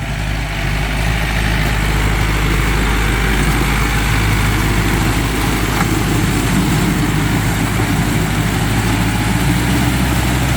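A tractor engine runs steadily along the edge of a rice field, a loud, continuous low rumble close by that holds an even idle-like drone throughout with no voices.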